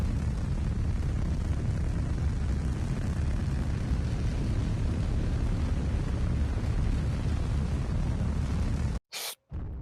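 A rocket launch in a Roblox Gemini space mission: a loud, continuous, roaring rush of rocket exhaust holds steady for several seconds, then cuts off abruptly, with a brief burst of hiss in the silence.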